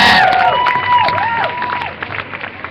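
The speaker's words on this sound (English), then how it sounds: "Let's give him a round of applause." A crowd applauds and cheers for a speaker, with whoops and rising-falling shouts over clapping that is loud at first and then thins out.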